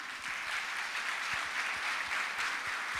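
A congregation at a Spanish-language family church meeting applauds, a steady, even wash of many hands clapping together at moderate distance, fairly soft and continuous throughout.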